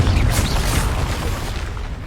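A fiery Confringo spell blast from the Hogwarts Legacy game lands as a loud, booming explosion that rumbles and decays over about two seconds.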